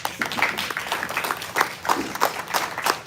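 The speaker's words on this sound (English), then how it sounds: "I think that deserves a round of applause." An audience at an education and youth employment event claps in a steady, moderately loud round of applause, individual hand claps distinct within the group, with no talk over it.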